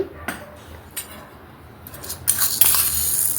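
Urad dal and cumin seeds spooned into a pan, a few light metallic clinks of the spoon followed by a rising sizzling rush as the seeds hit the hot pan.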